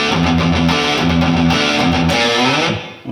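Heavily distorted electric guitar plays the opening two bars of a riff at a slow pace, thick and loud with chugging repeated notes, ending in a brief decay.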